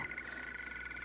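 A toad croaks in a single short, steady raspy call, close and alone, lasting about a second.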